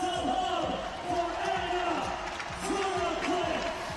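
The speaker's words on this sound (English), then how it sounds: "Crowd cheering on Anna Tunnicliffe on the final leg of her 1 mile run." A CrossFit Games crowd cheers on a female athlete on the final leg of her one-mile run, a steady, loud wash of cheering and clapping with repeated rhythmic thuds underneath.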